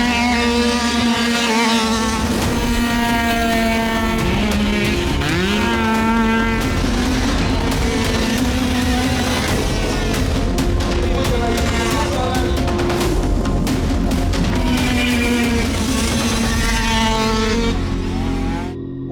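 Moped engines race in the 43rd international 24-hour endurance race at Vall del Tenes, loud high-pitched two-stroke whines rising and falling continuously as machines pass close by, with no talk over them.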